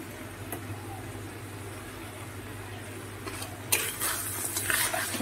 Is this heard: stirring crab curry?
yes